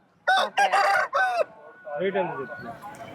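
A fighting rooster crows at the Nallapadu village chicken market where fighting cocks are sold. One loud, close crow is followed by lower clucking and bird chatter.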